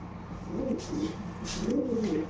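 A breeding pigeon at a pigeon show coos twice, soft rolling calls close by, with a faint background hum between them.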